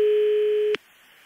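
A telephone ringback tone sounds on a radio call-in line: one steady, clean electronic tone holds for under a second and then cuts off abruptly, leaving faint line hiss.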